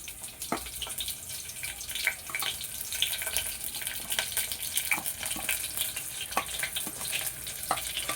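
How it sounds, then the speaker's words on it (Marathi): Garlic sizzles in hot oil in a cooking pot. A moderate, steady frying hiss is dotted with scattered small pops and crackles, heard close with no voices. "हे तेल गरम झाल्यावरती पहिला लसूण टाकायचं त्याच्यामध्ये आपल्याला"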